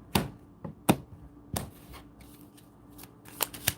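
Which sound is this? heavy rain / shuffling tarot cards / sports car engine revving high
shuffling tarot cards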